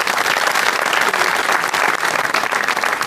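Dense, steady applause from a studio audience at a comedy show fills the whole stretch, loud and close, with no pauses.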